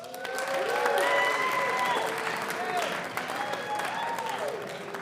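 Comedy club audience answers a comedian's question with a sustained wash of applause and some cheering, loud and steady for several seconds, with a few voices and whistles rising over the clapping.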